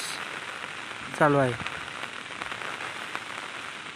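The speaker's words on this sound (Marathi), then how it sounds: "किती पाऊस आहे बघा" A thick, steady hiss of heavy Konkan monsoon rain drums on surroundings close by, broken once by a short spoken phrase from a man.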